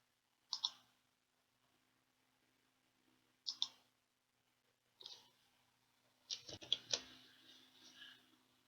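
A computer mouse clicks a few times in a quiet room, isolated soft clicks spaced apart and then a quick cluster near the end.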